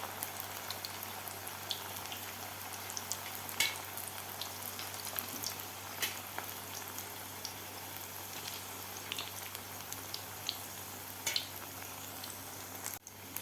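Potato bread rolls deep frying in oil over a medium gas flame give a steady, faint bubbling sizzle with scattered small pops and crackles throughout, no voices.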